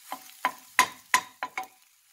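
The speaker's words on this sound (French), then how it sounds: "je cuis mes œufs battus, salés, comme une omelette. Pendant la cuisson, je remue régulièrement" Beaten, salted eggs cooking like an omelette in a pan while being stirred, heard as six soft scraping strokes at an even pace, close and fairly quiet, with no talking.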